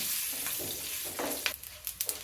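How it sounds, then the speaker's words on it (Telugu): Crackling sizzle of spices frying in hot oil, close up, with a few sharp pops toward the end. "తాలింపు వేగిపోయింది"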